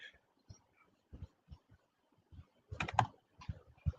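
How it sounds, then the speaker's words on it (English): Fingers tap out a search on a computer keyboard in a quiet room, giving sparse, faint key clicks that cluster into a quicker burst toward the end. "I can just type it out."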